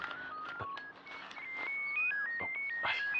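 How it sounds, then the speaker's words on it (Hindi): A phone ringtone plays in an office setting as a steady, fairly faint melodic electronic tone over low room noise, continuing throughout. "निशा का फोन होगा, कहीं वेट कर रही होगी बेचारी।"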